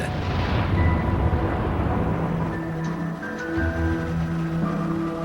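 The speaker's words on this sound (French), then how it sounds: "Quelques secondes plus tard, les flammes s'élèvent à plus de 100 mètres dans le ciel. L'explosion est visible depuis toute la ville." A tanker truck explosion after a collision with a train: a loud, sustained rumbling roar with a deep low-frequency boom that fills the whole span, fading slightly but never dropping out.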